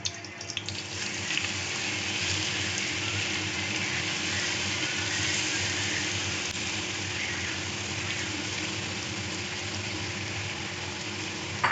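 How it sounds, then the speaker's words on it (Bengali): Grated carrot frying in ghee over a low gas flame, a steady, even hiss and sizzle that holds unbroken throughout with no voices. "এবার এই যে গ্রেট করে রাখা গাজরটা দিয়ে ভেজে নেব।"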